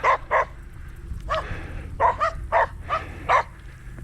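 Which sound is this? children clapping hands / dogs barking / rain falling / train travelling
dogs barking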